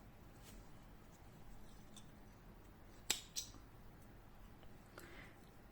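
Scissors snipping yarn ends on a small crocheted pumpkin leaf, a quiet close snip around the middle followed by a second lighter one against a soft room background, with no talk.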